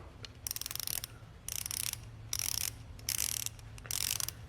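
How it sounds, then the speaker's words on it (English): Rapid bursts of a quarter-inch ratchet's teeth clicking, repeated five times in quick succession at close range over a low background hum. "you can hear the teeth on this one"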